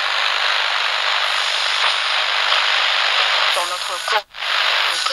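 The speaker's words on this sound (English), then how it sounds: "the sound of somebody tuning through a radio and getting a lot of static" Loud, steady radio static hisses throughout, with a brief warbling sweep and dropout near the end as the dial moves.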